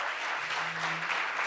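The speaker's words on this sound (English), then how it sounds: "Let's give him a round of applause." Audience applause for the Attorney General at a faith leaders' gathering, a short steady patter of clapping from a room full of people, fairly quiet and with no talking over it.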